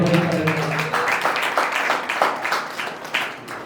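A church congregation claps hands in praise during an Easter sermon, a steady rhythmic clapping of a room full of people, moderately loud and continuing for several seconds.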